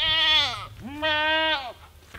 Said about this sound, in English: Those are some big goats.